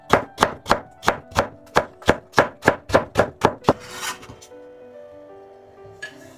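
Knife shredding carrot slices into thin strips on a cutting board: about a dozen quick, evenly spaced chops, close and loud, then a brief clatter and quieter handling.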